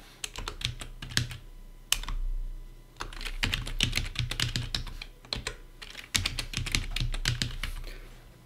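Rapid bursts of keystrokes on a computer keyboard, close and clear with short pauses between runs, typed while entering account details on a mining pool website.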